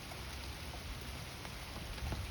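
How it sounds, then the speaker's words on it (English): Rain falls outside in a soft, steady hiss at low level, continuous and even, with faint scattered patter and no talking. "It's raining outside."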